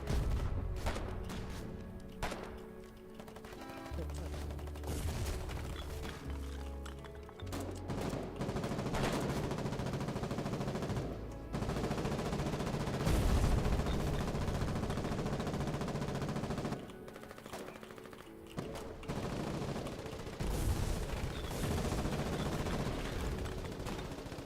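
Sustained automatic gunfire with bursts and explosions from a shooter video game, loud and dense throughout with scattered booms and crashes, no talking over it.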